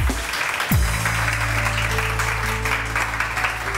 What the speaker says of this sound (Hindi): बहुत सारी तालियां इनके लिए भी जी।